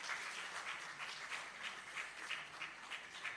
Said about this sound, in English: One more time, a round of applause for her.